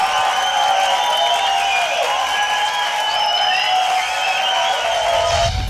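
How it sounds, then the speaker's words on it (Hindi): Loud, steady audience applause with some cheering fills the whole stretch, a dense continuous wash of clapping from a crowd at a stunt game show. "उनके लिए एक बार जोरदार तालियां।"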